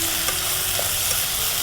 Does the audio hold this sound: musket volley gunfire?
no